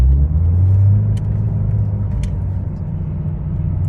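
A Porsche 911 (997) Turbo Cabriolet drives along with a steady, heavy low engine rumble and road noise, close and continuous, with a couple of faint brief ticks above it.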